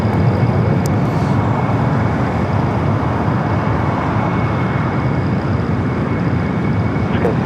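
The GE90 engines of an airliner taxiing at LAX make a loud, unbroken roar with a dense rumble that holds at a constant level from start to finish.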